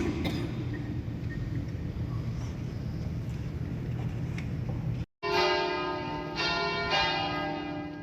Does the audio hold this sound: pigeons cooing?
no